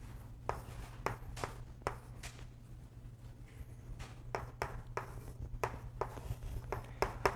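Pen or marker strokes on a board while working a rigid-body kinetics problem, a run of short scratchy taps and strokes at an irregular pace, near and fairly quiet over a steady low hum.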